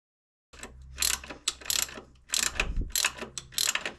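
A ratchet socket wrench clicks in quick bursts while removing glow plugs from a Land Rover Defender Td5 engine, close and crisp, with brief pauses between the strokes.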